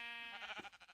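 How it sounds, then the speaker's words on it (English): A sheep in a Minecraft-style video game lets out a single short wavering bleat, close and clear, with no talk over it. "And there's our nice tree sheep as always, hiding up there."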